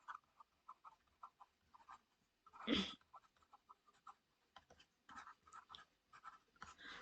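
Scattered, light taps and short strokes of writing on a board, quiet and intermittent, with one louder rustling burst in the middle and soft sounds from a voice around it.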